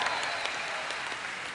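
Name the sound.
crowd applauding at World of Warcraft raid event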